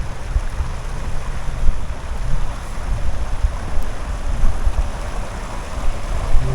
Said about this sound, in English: Little creek here.